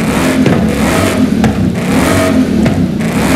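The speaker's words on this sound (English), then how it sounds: "I'm gonna do a sound check of the engine in 3" A supercharged 2003 Mustang Cobra Saleen clone in Forza Horizon revs loudly and continuously, its throaty engine note swelling and dipping with each throttle blip, heard alone at close range.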